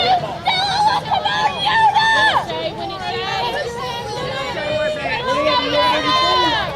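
Crowd of fans at a girls' high school softball game between Cedartown and Trion, a steady murmur of chatter and voices filling the background at moderate loudness throughout.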